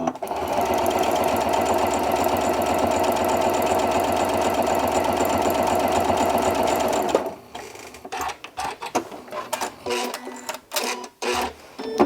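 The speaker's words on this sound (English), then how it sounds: "So let me stitch this on. So just using a 1/4-inch seam" A sewing machine runs steadily and loud up close, stitching a quarter-inch seam on a quilt block, then stops and gives way to scattered handling clicks and rustles.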